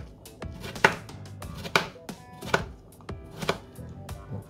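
A knife chops vegetables into small cubes for Polish beetroot soup, each stroke a close, sharp knock on the board, with about eight chops spaced unevenly and separated by quiet pauses.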